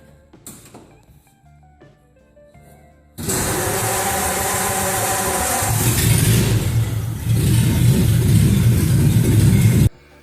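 Faint clicks and rattles, then a Flathead engine's starter motor cranks briefly and the engine catches into a loud, steady running roar that stays up close.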